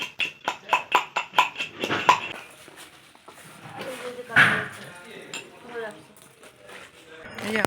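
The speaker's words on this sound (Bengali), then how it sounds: "আমি আগে থেকে মানে আদা আর লঙ্কাটা ছেঁচে দিচ্ছি।" Ginger and green chili are pounded in a quick series of sharp, rhythmic clinking strikes, about a dozen close taps, followed by a few louder knocks as a person talks over the work.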